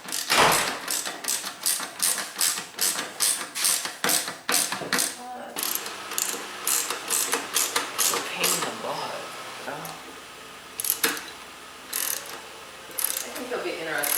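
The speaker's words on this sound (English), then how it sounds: "these 3 bolts are going to be used to bolt the seat down" Repeated rapid ratcheting clicks come in bursts as the seat is bolted onto an Azusa mini bike kit, close and loud, with pauses and a few metallic knocks between runs of tightening.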